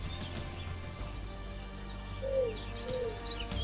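Birds call in the ambience of a space-survival video game, soft chirps and two clearer whistled calls set over a low steady background hum.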